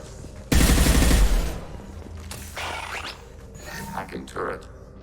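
A hacked turret firing in Mass Effect 2, one loud burst of rapid shots followed by quieter mechanical clanks, whooshes and scattered combat effects.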